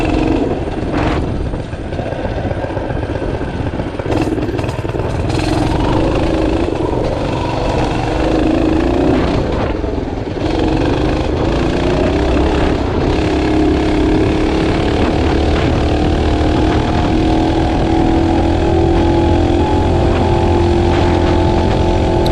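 Tillotson 212R out-of-the-box race engine on a kart revs hard and steady, a loud continuous buzzing drone held near the top of its range for the whole stretch, with slight pitch wavering and no talk over it.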